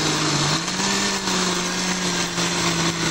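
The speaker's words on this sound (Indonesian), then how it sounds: "Kemudian blender bumbu halus." A blender runs continuously, grinding spice paste for tempeh chili with a steady high-pitched motor whine and whirring, close and even in loudness throughout.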